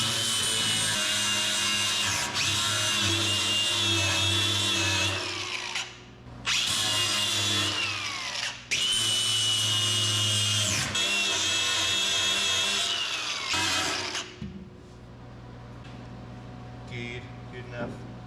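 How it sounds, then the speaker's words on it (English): A grinder works over welded patches on a 1969 Ford F100 pickup, a loud, close, sustained whine whose pitch dips and recovers as it bites the metal, with brief breaks before it winds down. "I'm gonna grind some of it off real quick and see if I need to weld any more spots on it"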